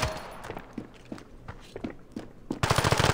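Gunfire in Standoff 2 pops in a string of separate, evenly spaced shots, then breaks into a rapid automatic burst at the end, fairly close and loud over faint background noise.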